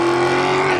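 Alfa Romeo Stelvio Quadrifoglio with Larini resonator-deleted exhaust, a loud, steady engine drone from close by, heard briefly with no talking.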